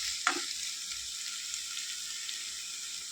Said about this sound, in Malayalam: തക്കാളി വേണമെങ്കിൽ രണ്ടെണ്ണം വേണം നമുക്ക് ചേർക്കാം ഇതിൻ്റെ ഉപ്പിൻ്റെ അളവനുസരിച്ച് വേണം നമ്മൾ ചേർക്കാം ഇനി അതും കൂടെ ഒന്ന് നന്നായിട്ട് വഴന്ന് വെക്കാം